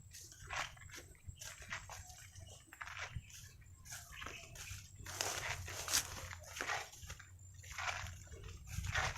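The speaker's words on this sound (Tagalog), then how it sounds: "Lodi, yung aso ko yung si Lodi" A dog pants and whimpers up close by a creek, with bursts of splashing water and rustling throughout.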